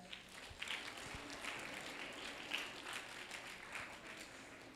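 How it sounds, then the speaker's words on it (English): Students in a classroom give a round of applause, a faint, fairly even spatter of many hands clapping that carries on for several seconds, heard from some distance with no talk over it. "Round of applause to her."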